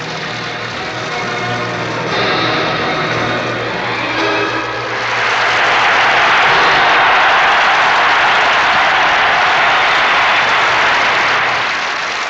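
A standing ovation from an arena crowd of 18,000 after a figure skating performance: a low, murmuring rumble swells midway into a loud, sustained roar of applause and cheering that holds steady to the end.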